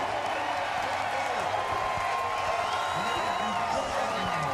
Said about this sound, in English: The crowd roars for the most popular driver.